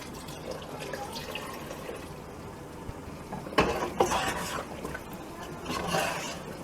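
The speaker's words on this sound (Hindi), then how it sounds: "उसके तकरीबन 3 कप के आप इसमें पानी डाल दें।" Water poured into simmering mutton stock (yakhni) for siri paye, a light wet splash and trickle building over a few seconds, loudest around the middle, with kitchen clatter.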